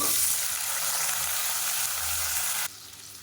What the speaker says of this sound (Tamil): எண்ணெய் சூடானதும் அதில் ஒரு முந்நூறு கிராம் அளவுக்கு சின்ன வெங்காயம் நான் வந்து அப்படியே முழுசாகவே போடுறேன்